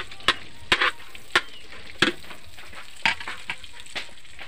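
Butter melts in a hot pan with a soft, steady sizzle, broken by sharp clicks and taps of a utensil striking the pan at irregular intervals, close and fairly quiet.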